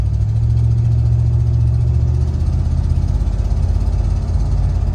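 A heavy car weighing about 2,890 kg drives at over 50 km/h, its engine a steady loud low drone with rumbling hum and no gaps, heard alone without talk.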